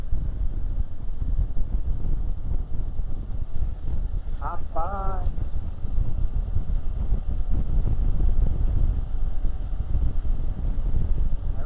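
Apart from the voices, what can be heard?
ferry crossing the Piquiri river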